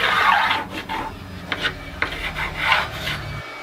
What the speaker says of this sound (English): I'm going to begin by tracing out my neck template onto this piece of maple.